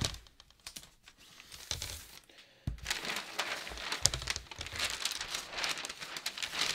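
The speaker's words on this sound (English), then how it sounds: "Let me just tape this top edge down." Tape being pulled and pressed down along the top edge of drafting paper: close crinkling and tearing crackles with soft taps, a brief quiet gap, then denser rustling and rubbing as the strip is smoothed flat.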